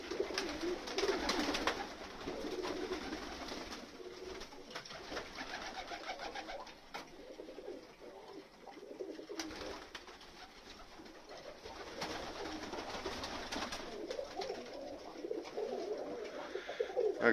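Pigeons in a loft coo in repeated soft, throaty phrases while pairing up, several birds calling close by and overlapping in waves, with light rustling behind and no talk.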